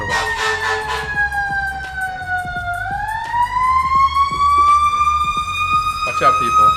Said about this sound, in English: We do have a fire engine.